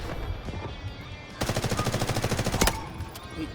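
M4A1 rifle fire in the Delta Force shooter game: a loud, rapid automatic burst of evenly spaced shots lasting about a second, with a sharp final crack, set against quieter ambient game noise.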